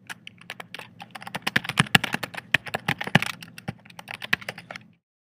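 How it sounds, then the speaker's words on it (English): Rapid keystrokes on a computer keyboard as an email address is entered in Google Contacts, a quick irregular burst of close, crisp clicks lasting about five seconds before stopping, with no voices. "I'm going to type in the email address of a colleague here at work"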